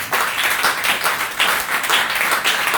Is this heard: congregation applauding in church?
yes